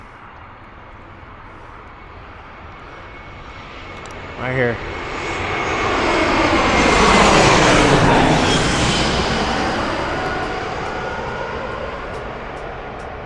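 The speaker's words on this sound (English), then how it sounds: "Here comes a plane." Jet airliner coming in to land at San Diego airport at night, its engine roar swelling from a distant rumble to a loud peak overhead and slowly fading; someone speaks briefly early on.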